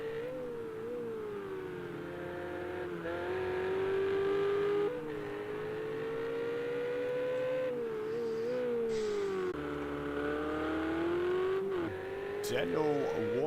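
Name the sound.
race car engines, PS4 racing video game at COTA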